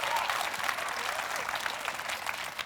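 Scattered applause from a church audience, a soft patter of clapping hands that holds steady and fairly faint for a couple of seconds.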